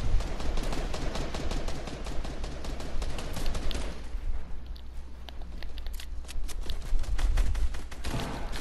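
Rapid, dense gunfire in a spy-themed multiplayer video game, with overlapping bursts and sharp shots running loud and nearly continuous throughout, with no talking.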